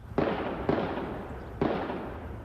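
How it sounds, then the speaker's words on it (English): Three sharp gunshots from a rifle crack out at uneven intervals, each trailing off into a long echo through downtown streets, distant and reverberant, with no voices. "The gunfire echoing through downtown streets"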